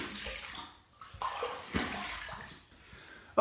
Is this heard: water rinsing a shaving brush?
yes